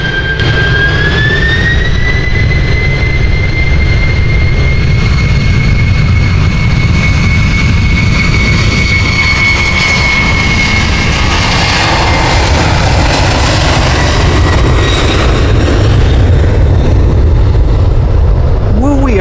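A British Airways A320neo jet roars through its takeoff run in the Adopt Me video game, a loud steady engine drone with a rising whine that holds throughout, with a voice talking over it.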